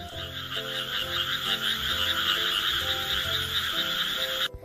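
A chorus of frogs croaks in steady overlapping pulses, a lakeside sound effect for a children's fable, with low rhythmic croaks under a bright continuous chirring that cuts off abruptly at the end.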